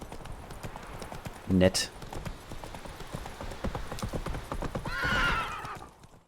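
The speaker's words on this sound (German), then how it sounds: "Das Pferd von Wesemir heißt Roach" Roach, the horse in The Witcher 3 game, clopping along with steady hoofbeats and letting out a brief whinny, under continuous German commentary from a player.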